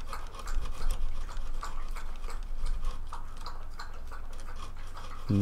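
Hand file working a bone or plastic nut from an Epiphone Model 3 guitar, a steady rasping, scraping stroke rhythm close by, with no talk.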